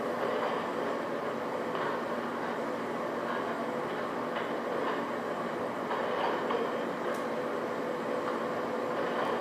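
An MTH R142A model subway train on the 4 Lexington Avenue Express runs with a steady, even rumble and faint clatter throughout. No voices are heard over it.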